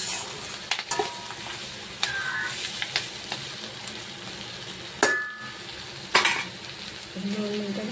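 Spiced capsicum (shimla mirch) sizzles softly in oil while it is stirred, a steady fry punctuated by a few sharp scrapes and clinks of the spoon against the pan.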